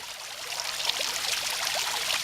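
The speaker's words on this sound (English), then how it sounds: "the water is dripping off of the rim of the lower bowl" Continuous trickling and splashing of water, steady and close, as a thin stream drips off the rim of a lower bowl into water below.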